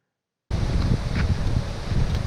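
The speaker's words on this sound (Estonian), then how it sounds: "siin on natuke tuult" Wind rushes through a forest in a steady, loud broadband roar that starts abruptly and keeps buffeting the microphone.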